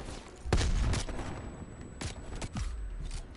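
Gunfire in the video game Black Ops Cold War: a few separate loud bursts of shots at irregular intervals over a low background rumble.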